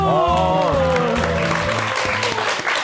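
Studio audience applause on a Korean morning talk show, breaking out right after a sung trot song about friendship, with the singer's last held notes fading underneath.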